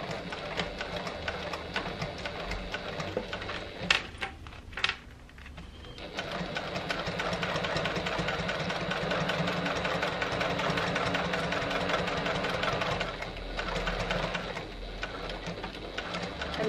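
A Janome HD9 sewing machine runs in a steady mechanical whirr while stitching fabric, broken by a brief pause and a couple of clicks early on before it resumes continuously and fairly loud.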